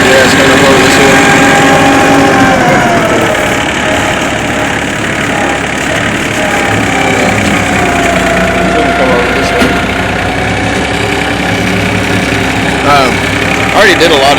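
A tractor engine driving a brush hog mower rumbles steadily and picks up a little as it is given more throttle, running continuously at close range with a person talking over it.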